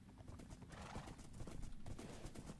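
Horses galloping in Minecraft, with a fast, continuous clatter of hooves and a faint whinny mixed in, heard quietly with no talking.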